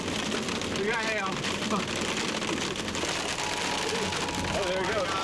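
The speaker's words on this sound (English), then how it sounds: "Storm over here. Now we got hail. We got hail." Hail pelts a car on a drive during a storm in Davis, California, a dense constant drumming and hiss, while people talk over the noise throughout.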